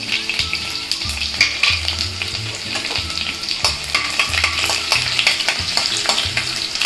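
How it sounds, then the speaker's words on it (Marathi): Steady crackling sizzle of garlic frying in hot oil, with a few scraping stirs, close and continuous with no voices. "लसून परत परतून घेते थोडंसं लाल होईपर्यंत"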